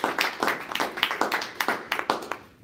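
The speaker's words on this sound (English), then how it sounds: "let's give them both a round of applause." A small group claps after a workplace training role play, a short round of fairly close, uneven hand claps that fades out toward the end.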